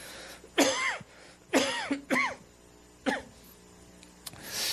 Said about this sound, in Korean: 왜 기침을 하죠?